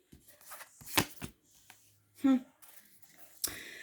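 Tarot cards are shuffled in short papery riffles and taps for a three-card spread, close and fairly quiet, with a brief voice sound partway through.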